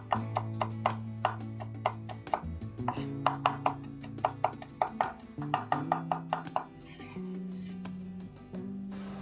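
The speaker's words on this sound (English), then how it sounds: "Finely mince the garlic." Garlic being finely minced with a knife on a cutting board, a series of quick sharp rhythmic chops in bursts, close and clear, over soft background music.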